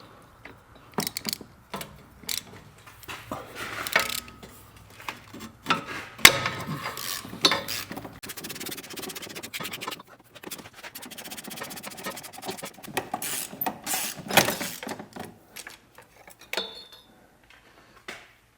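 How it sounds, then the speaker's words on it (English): Ratchet clicks and metallic clatter from a 3-foot extension with a 15 mm universal socket loosening starter bolts on a Jeep Liberty, close, in irregular bursts of rapid ticking with pauses and no talking. "I'm using a 3-foot extension with a 15 millimeter socket, universal socket on the end of it"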